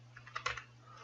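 Light typing on a computer keyboard in a quiet room: a short run of soft, uneven key taps clustered mid-clip, fairly faint over a low steady hum, with no voices.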